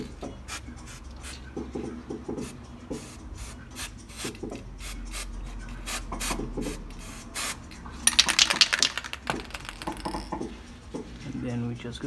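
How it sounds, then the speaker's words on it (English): Copper spray is applied onto a VW Polo brake pad, with a short, sharp hissing burst in the middle, amid scattered scraping and handling noises and quiet talk. "copper spray onto the actual brake pad as well"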